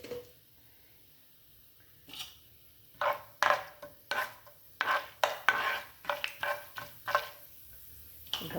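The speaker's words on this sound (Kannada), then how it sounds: "ಈಗ ಫ್ರೈ ಮಾಡ್ಕೊಳ್ಳೋಣ." Spices such as chana dal, urad dal, cumin and mustard seeds being stirred in a pan for fenugreek-leaf rice, with a soft sizzle and repeated scraping clinks of a spoon against the pan.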